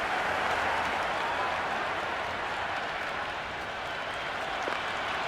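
A stadium crowd in the cricket video game Cricket 26 roars in a continuous, dense wash of cheering and applause that stays loud and steady throughout, with no clear voices standing out.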